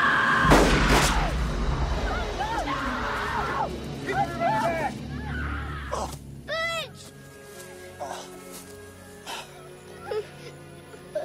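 Gunfire in a tense 1993 film standoff: a sharp, loud shot bursts out early, followed by further booming reports amid strained whimpering and tonal cries, with dialogue murmuring around the action.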